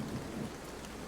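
Steady, dense rain with a low rumble of thunder, played as ambient background during a tabletop role-playing game session, a continuous soft hiss with no voices.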